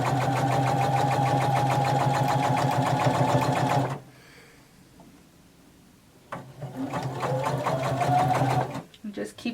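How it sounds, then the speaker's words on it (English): A sewing machine runs steadily, stitching around the edge of a jumpsuit seam at just under a 1/4 inch allowance, with a loud whirring stretch, a pause, then another long run. "you're going to stitch all the way around"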